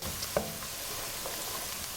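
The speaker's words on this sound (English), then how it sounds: "We are sizzling the onions with the carrots and the celery on a very low to medium flame" Steady, soft sizzling of onions, carrots and celery frying in a pan on low to medium flame, a continuous hiss with a faint clink of a utensil near the start.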